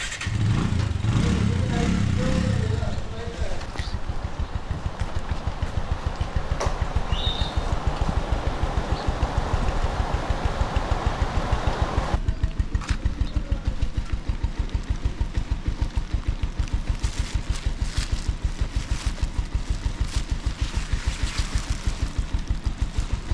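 Motorcycle engine idling steadily near a hotel by Kempty Falls on the Mussoorie–Dehradun road, a continuous low rumbling throb that stays loud throughout, with brief voices early on.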